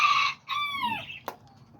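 Chickens and a rooster at a backyard cage, a nearby rooster crow with falling pitch followed by a short cluck, fairly loud against a quiet low background hum.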